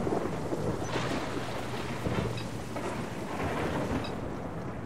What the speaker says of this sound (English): It's also a stormy night.